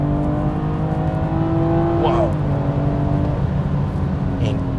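BMW 340i xDrive sedan engine pulling hard from a cruise, a steady rising drone with harmonics sweeping upward, loud and close inside the cabin while a man exclaims over it.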